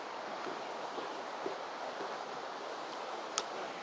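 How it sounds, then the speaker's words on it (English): Steady waves wash along a riverbank or shore in a continuous broadband rush, with a faint click near the end and no talking. "How you can hear the sound, the waves."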